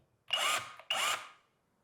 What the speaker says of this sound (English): this cordless hammer is totally compatible with our GDE 12